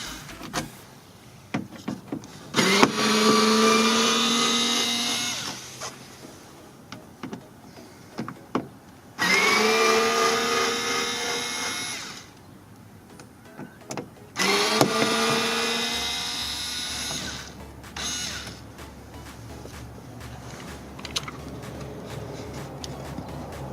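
A Phillips-head screwdriver backs out screws holding a rear door speaker on a Mazda CX-7, heard as three whirring bursts of several seconds each with small clicks and handling noise between them, close up.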